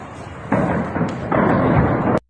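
Explosions from strikes on IRGC bases, filmed from a rooftop: a continuous heavy rumble that swells into two loud, sustained surges of booming before cutting off abruptly.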